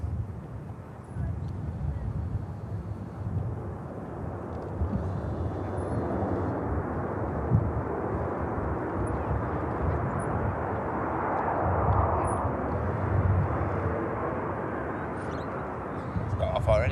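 An ATR turboprop at Manchester Airport gives a steady, broad engine roar that swells slightly toward the end, heard from moderate distance under wind and people talking.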